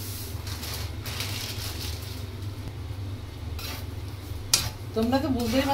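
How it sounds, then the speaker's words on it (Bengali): Semolina dry-roasting in a pan for a sweet dessert: a continuous close scraping and rustling of a spoon through the grains, with a brief louder clatter near the end. "আমি সুজি বানাচ্ছি। সুজিটা ভালো করে ভেজে নিয়ে"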